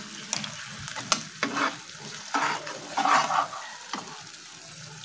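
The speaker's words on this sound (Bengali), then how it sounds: "এটা দিয়ে ভালো করে একটু কষিয়ে নেব।" Masala for paneer butter masala being stirred and sautéed in a pan, with a soft sizzle under irregular scraping strokes from the spoon, close and fairly quiet.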